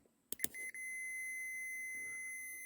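A multimeter on its continuity setting, used while rewiring LEDs to 12 volts, gives a couple of quick clicks, then a steady, clear electronic beep that holds unbroken for about two seconds in a quiet room.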